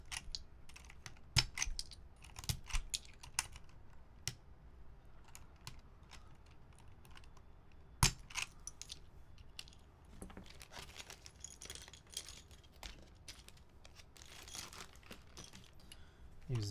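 Keycaps being pulled off and pressed onto a mechanical keyboard, with old DSA-profile caps going on: scattered plastic clicks, taps and rattles at irregular intervals, quiet and close, with a few sharper snaps.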